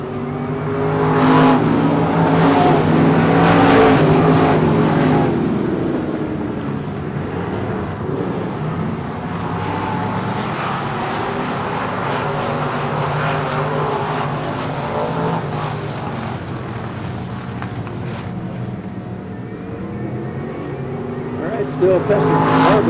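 Race cars roar around the dirt oval at Texana Raceway Park during a summer showdown night, engines loud and continuous with passing surges and revving, under an announcer's running commentary over the PA.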